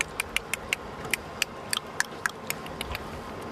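Orca clicks picked up by a rubber-encased hydrophone lowered into cold summer seawater: a dozen or so sharp, irregularly spaced clicks over a faint steady underwater hiss, with no talking.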